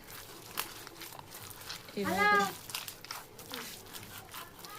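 Hands mix makhana tikki ingredients in a bowl, making soft crinkly squishing and mashing sounds in short bursts while a person talks over them.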